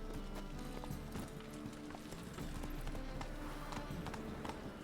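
Hooves of a horse clip-clop steadily in The Witcher video game, a continuous rhythmic trot over a dense game soundscape with faint background voices.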